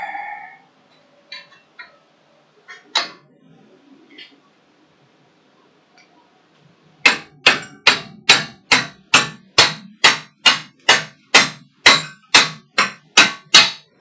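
A hammer strikes metal about a dozen times in a steady, even rhythm, each blow sharp and ringing, after a stretch of faint scattered sounds.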